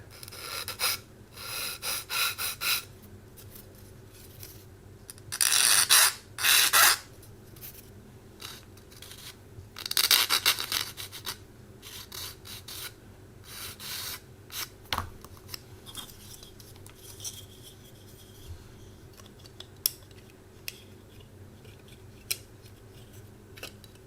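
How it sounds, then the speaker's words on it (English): Sanding flash off a small plastic part of a 1/72 scale Spitfire model kit, soft close scratchy rasping strokes in a few bursts, louder early on, then fainter intermittent rubbing and handling noises. "a bit of flash on this part. I'll deal with that now. Sand it away."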